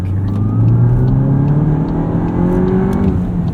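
Tuned 2022 VW GTI S MK8 with six-speed manual accelerating hard to pass a truck, heard from inside as a loud, steady engine drone climbing in pitch through the gear, with no talking.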